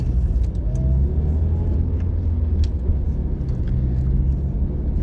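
A car pulls away on a driving exam route in Konotop, Sumy region, with a steady, close engine rumble and road noise that hold at an even level throughout, and no voices.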